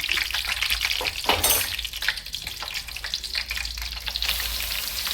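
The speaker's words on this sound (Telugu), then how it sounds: "ఫస్ట్ ఎండుమిరగాయలు వేస్తానండి, తర్వాత కరివేపాకు." Dried red chillies and curry leaves crackle and sizzle in hot oil for Andhra gongura chutney, a steady bright frying hiss with a louder burst near the start, heard close with no talking.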